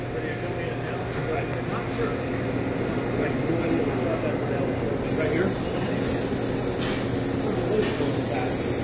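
A 2015 Citizen L32VIII CNC Swiss lathe machines a part from 1-inch bar stock, giving a steady, loud mechanical hiss and whir throughout, with a sharper spray-like rush joining halfway through as the spindle speed changes.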